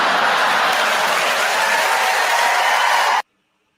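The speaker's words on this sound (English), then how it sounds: "Not so much laughter, but applause and cheers and boos" Comedy show audience breaking into loud, dense applause mixed with cheers and scattered boos, a steady roar that stops abruptly after about three seconds.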